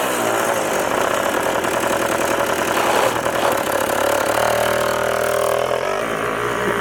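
A Rokon off-road motorcycle engine running steadily nearby, a loud, continuous mid-pitched chug with a slight knocking rhythm and small shifts in tone.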